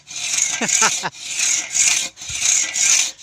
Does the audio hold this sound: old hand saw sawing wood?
yes